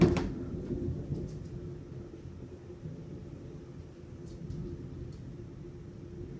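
Thunder from a Chicago summer thunderstorm rolls as a low, fairly faint rumble. It opens with a sharper knock, then slowly fades and swells again, with no one speaking.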